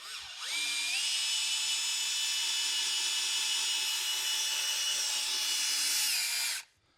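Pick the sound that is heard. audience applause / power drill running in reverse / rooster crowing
power drill running in reverse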